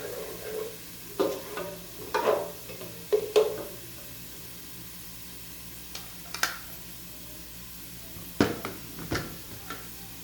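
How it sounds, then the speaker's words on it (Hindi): Onions browning in a pan give a low sizzle, with intermittent scrapes and clinks of a spoon stirring them in short bursts. "प्याज हमने डाल दी है, प्याज ब्राउन हो जाएगी"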